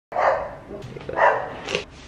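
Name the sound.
dogs barking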